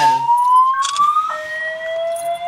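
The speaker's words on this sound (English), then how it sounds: "It's an ambulance." An ambulance siren wails alone and loud, a steady electronic tone sliding upward and then holding at a new pitch, with no voices over it.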